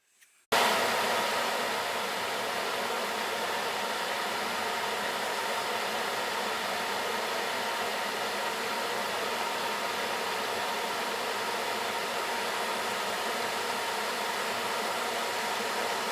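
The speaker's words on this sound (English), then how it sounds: "here I'm facing the end of the shaft to get a nice straight edge on it" A metal lathe facing the end of a shaft, starting abruptly after a brief click and then running as a steady, broadband whirring hiss that holds constant and close throughout.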